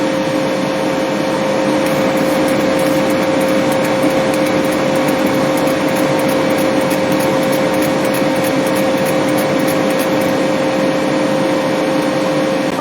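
A K40 laser engraver running a 3D engraving job at 250 millimeters per second gives off a loud, continuous mechanical whine and hum with a faint rapid ticking, unbroken and without any voices.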